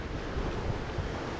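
Ocean waves rush past a sailboat under way on open sea while strong wind buffets the microphone, a loud continuous low roar with surging swells and no voices.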